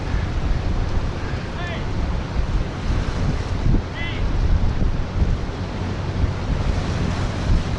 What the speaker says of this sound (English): Oh, these waves are awesome down here.